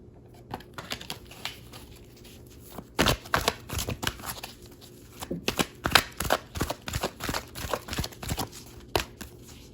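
Tarot cards being shuffled and drawn from a deck, a run of crisp papery flicks and riffles that grows busier after a quiet start, close and fairly soft.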